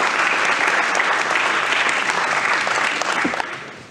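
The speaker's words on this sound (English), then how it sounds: "So give Sim White a round of applause." Round of applause from an audience, dense and loud clapping that holds steady and then begins to fade near the end, with faint voices underneath.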